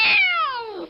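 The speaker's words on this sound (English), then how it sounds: "there's our sound. Domestic cat" A vicious domestic cat shut in a cage gives one loud, drawn-out meow that starts high and bends downward as it fades, heard close and alone.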